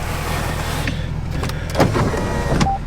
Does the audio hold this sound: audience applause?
no